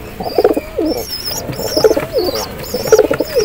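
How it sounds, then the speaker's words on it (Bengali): High-flying pigeons coo nearby in three soft, rhythmic bouts of low throaty calls, with faint chirps in the background and no talk. "পায়রা দেখাই।"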